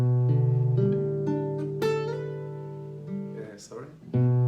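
A guitar slowly plays the arpeggiated part of a song, sustained notes ringing and overlapping in a clear, close line, with a brief scrape near the end.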